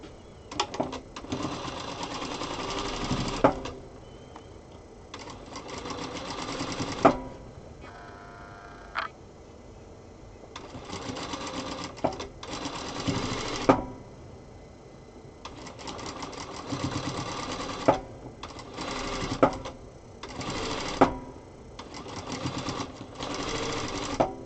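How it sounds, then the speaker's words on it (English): Zoje ZJ9703 sewing machine stitching a quilt block in repeated bursts of rapid, close mechanical chatter, separated by short quiet pauses. "And then I sew the other side there."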